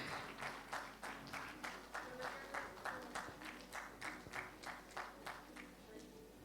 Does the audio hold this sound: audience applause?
yes